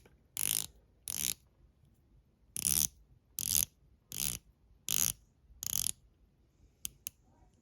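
Hardened stainless steel watch bezel turned by hand, giving seven short bursts of close, crisp ratcheting clicks separated by brief pauses, with a couple of faint single clicks at the end.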